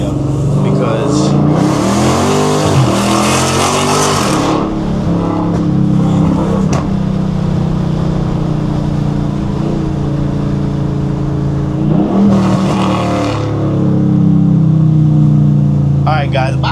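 A cammed Dodge Challenger R/T V8 revs hard in two loud bursts of acceleration, with a rough idle between them and sharp crackles at the end. Someone talks throughout.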